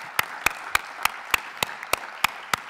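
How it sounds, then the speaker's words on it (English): Widely spaced, sharp claps ring out one by one at a steady rhythm during a women-in-technology conference session, fairly faint with no speech over them. "can we give them a round of applause"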